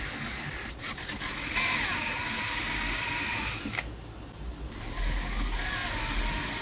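Rotary wire brush grinding over dead wood on a small trunk, a steady loud abrasive whir running throughout with a short dip midway as the brush eases off the wood.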